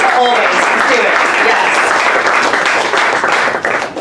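Audience at a literary author event applauding, loud close dense clapping throughout with some crowd murmur mixed in.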